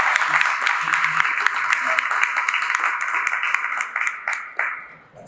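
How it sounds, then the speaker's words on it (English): An audience at a student showcase applauds with dense, lively clapping that holds steady for several seconds, then thins to scattered claps and fades out, with voices faintly underneath. "let's give them another round of applause."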